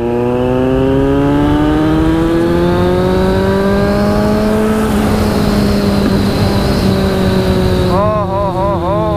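A Kawasaki Z900 motorcycle riding at night alongside two other bikes at 90-100 drones loudly, its pitch climbing steadily amid heavy wind roar, with a brief warbling sound near the end.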